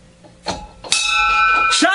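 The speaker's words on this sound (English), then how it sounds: "Ring the bell." A bar's bell is struck a few times, with its bright, sustained metallic ring sounding near and loud over a noisy room of people talking in the background.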